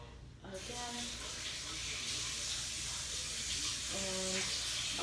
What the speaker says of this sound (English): Okay, so I'm gonna wash my hands